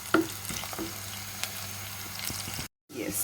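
Coconut pieces fry in a pan for a beef dry roast, with quiet sizzling and scraping stirs, a brief silent gap, then more faint frying.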